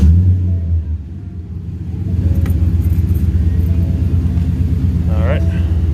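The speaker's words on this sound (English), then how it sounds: "you guys can hear the sound from the new exhaust I put on" Exhaust note from a 2020 Ford F350 pickup fitted with a new muffler, a steady low rumble that idles and then holds a slightly louder, even drone, close by, with a brief faint chirp near the end.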